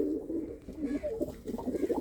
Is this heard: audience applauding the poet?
no